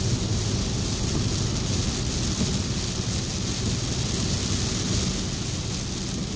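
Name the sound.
rain falling outside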